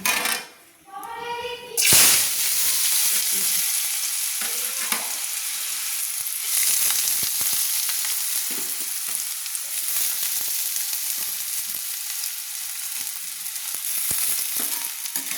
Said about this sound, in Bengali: এবার আমি কেটে রাখা আলুগুলো ছেড়ে দিচ্ছি।